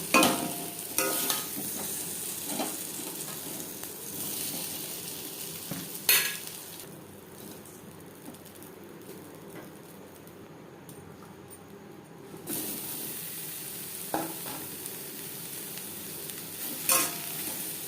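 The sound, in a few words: soybean chunks frying with salt and turmeric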